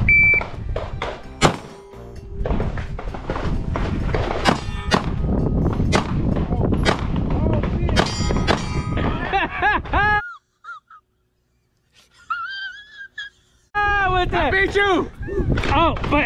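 Taurus and Glock pistols fired at a shooting range, a rapid string of sharp close shots over the first ten seconds, then a near-silent gap and people talking.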